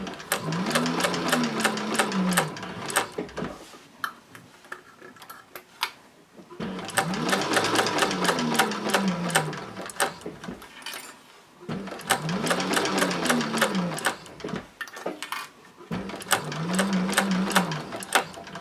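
Techsew 4800 Pro sewing machine stitching in three long rapid bursts separated by brief pauses, a steady mechanical whir with dense needle clatter, close and loud with no talk.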